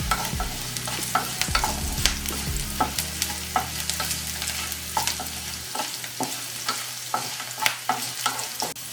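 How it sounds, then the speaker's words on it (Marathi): A spicy tomato chutney base with red chili powder fries in a pan, giving a continuous close sizzle punctuated by frequent scraping and tapping of a stirring spoon. "पूर्ण फ्राय होऊन द्यायचं."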